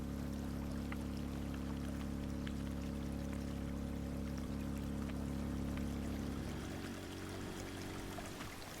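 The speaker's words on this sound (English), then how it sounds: "the water is draining" Water pouring and draining from a pump in the video game Drain Simulator, a loud steady gush with a low mechanical hum that drops off near the end, no speech over it.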